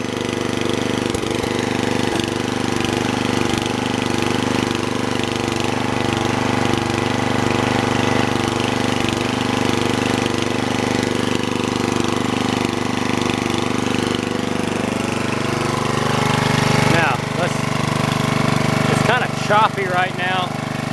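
A Snapper riding mower engine with a carburetor needing a rebuild kit runs choppy and uneven, a steady close mechanical drone with rough pulsing and some knocking throughout, while a person talks over it.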